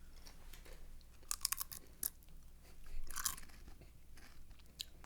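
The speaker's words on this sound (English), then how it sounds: "I've never eaten over a microphone before. It's really weird." Food is chewed and crunched right against a microphone, with a few sharp crisp bites standing out over quieter soft mastication and faint background hum.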